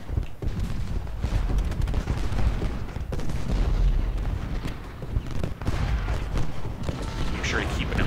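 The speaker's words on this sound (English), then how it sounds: "the tremendous amount of enemy artillery firing down upon us" Enemy artillery booms steadily in the Ultimate General Gettysburg battle game, a dense, continuous rumble of cannon fire and volleys throughout, with a voice talking over the barrage.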